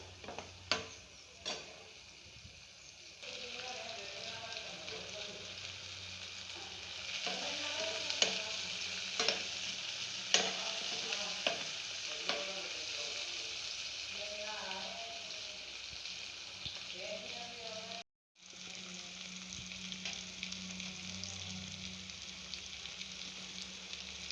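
Gongura curry with tomato sizzling and frying in a pan, a steady bubbling hiss broken by repeated scraping stirs and clinks of the spoon, with one brief drop to silence near the end.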